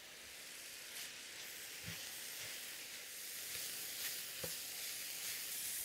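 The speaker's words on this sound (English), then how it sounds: "we're just going to continue frying these off until the mushrooms have lost most of their moisture" Mushrooms fry in a pan for a cottage pie, giving a soft continuous sizzle and hiss with a few faint clicks of stirring, no voices.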